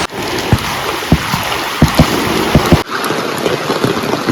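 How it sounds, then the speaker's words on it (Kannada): Heavy rain falls in a village among soaked areca palms, a dense, steady close-up hiss broken by repeated heavier drips and splashes. "ಊರಿನ ಮಳೆ ಎಫೆಕ್ಟ್ ಅನ್ನು ಒಮ್ಮೆ ತೋರಿಸ್ತೇನೆ ನಿಮಗೆ"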